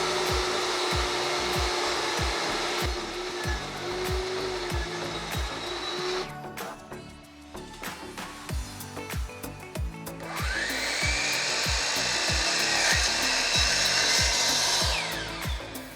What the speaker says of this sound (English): Now we're going to take these to the table saw and the miter saw and clean up the edges a little bit.